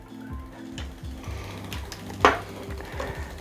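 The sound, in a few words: tightening bicycle fender bolts with a ratchet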